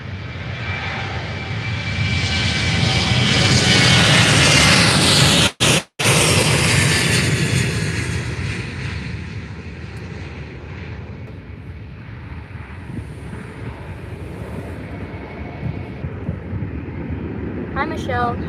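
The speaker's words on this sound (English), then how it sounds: "We've also got a Ryanair 737-800 to Oporto, now on the takeoff roll." A Ryanair Boeing 737-800 jet roars loudly on its takeoff roll at Faro Airport, its engine noise building, then slowly fading as it moves away.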